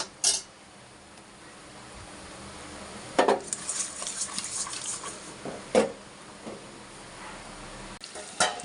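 Fish curry ingredients fry in oil in a pan with a quiet, steady sizzle, broken by a few sharp clinks of a utensil against the pan.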